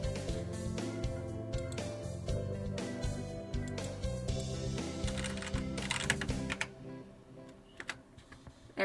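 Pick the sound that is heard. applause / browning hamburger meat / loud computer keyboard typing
loud computer keyboard typing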